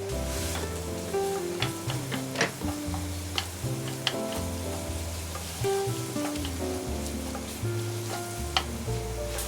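Onions and bacon fry in a pan for a creamy pasta lunch, giving a steady, close sizzle with scattered pops and stirring scrapes, while tonal background music plays underneath.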